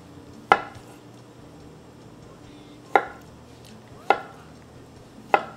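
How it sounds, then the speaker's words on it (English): Four sharp knife chops on a cutting board, slicing through cooked radish and beef for ox bone soup, spaced irregularly with quiet pauses between them. "So let's cut this."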